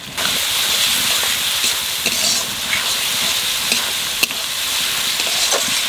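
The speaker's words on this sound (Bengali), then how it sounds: "মশলা ভালোভাবে ভাজে নিছি" Ginger, garlic and chili paste fries in a hot pan for a raw jackfruit and mutton keema dish: a loud, steady close sizzle with occasional stirring scrapes and one sharp tap, no voices.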